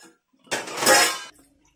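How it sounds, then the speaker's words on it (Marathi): A metal lid set down over a pot holding hot charcoal and ghee for smoking tandoori chicken momos gives a loud, close clatter and hiss lasting under a second, then falls quiet. "त्यावर थोडं तूप घालणार आहोत आणि वरती झाकण ठेवून द्यायचं 30 सेकंदासाठी"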